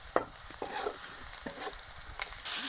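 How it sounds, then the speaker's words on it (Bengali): Boiled mashed papaya and onion fry in a pan of oil with dried chillies, a moderate hiss punctuated by irregular scraping stirs and clatter. "আমাদের পেঁপেটা বাগার দিতেছে, পেঁয়াজটা লাল করে ভাজবে"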